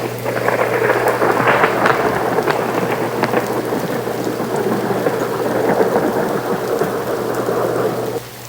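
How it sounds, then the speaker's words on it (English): Heavy rain pours steadily during a thunderstorm while driving through a flash flood in Saint Clair Shores, with a constant dense hiss and low rumble and a steady drone underneath. "This is one serious storm."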